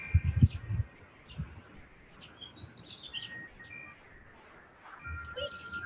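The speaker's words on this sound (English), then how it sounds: "Birds, so cute." Birds chirping in the background, several faint scattered tweets and short calls spread across the clip, while low thumps and light movement sounds occur near the start and the end.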